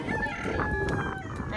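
Meat chickens cluck and squawk close by on a backyard farm, short busy calls over a steady flock background, with a little talk nearby.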